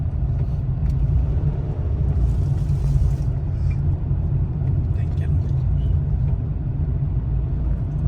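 A right-hand-drive car circling a roundabout in Cyprus, heard from inside as a steady low engine and road rumble throughout, with a person talking over it.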